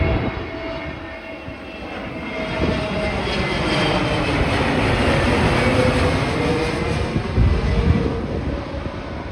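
An IndiGo passenger jet roars past nearby at Kannur International Airport, a loud, steady rumbling drone that swells slightly and holds for the whole stretch, with no voices.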